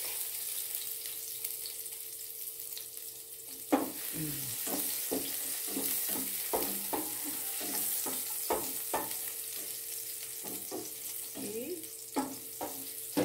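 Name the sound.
garlic and ginger sizzling while frying in oil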